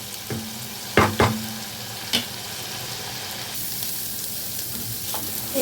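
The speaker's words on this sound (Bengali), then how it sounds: "এখন এইটাকে খুব ভালো করে কিন্তু এই তেলের সাথে একটু কষিয়ে নেব" Green chili and garlic paste fries in hot oil for a Bengali catla fish curry, a steady close sizzle broken by a few sharp stirring scrapes of the spoon against the pan, with no talking.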